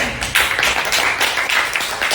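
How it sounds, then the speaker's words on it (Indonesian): Classmates in a classroom applaud group B with a steady burst of many hands clapping, close and lively, sustained for about two seconds without talking. "beri tepuk tangan untuk teman-teman kalian yang dari grup B"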